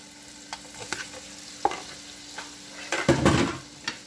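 Shrimp go into a pan of simmering garlic, onion, butter and oil, bringing soft scattered clicks and stirring scrapes and then a sudden louder hiss of sizzling near the end, with no voices.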